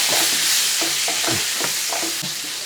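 Thin-sliced onions fry in hot oil under a loud, steady sizzle while a spoon stirs them with a few scraping strokes against the pan, up close.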